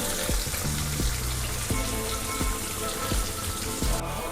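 Onions sautéing with salt in a pan, a steady dense sizzle and crackle running throughout, with a few soft low thuds of stirring scattered over it.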